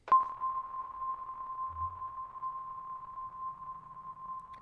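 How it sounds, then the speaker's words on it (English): Kodamo EssenceFM MKII synthesizer with a space reverb: one struck tone that hangs as a long, steady, faintly shimmering drone, quiet and grainy, sustaining for several seconds. "Which is almost like a granular sounding reverb."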